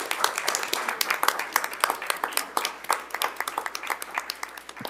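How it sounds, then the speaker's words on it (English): Applause at a board of directors meeting, a lively burst of many hands clapping with crisp individual claps over a continuous patter, fairly close and loud for several seconds. "Let's give Man a round of applause."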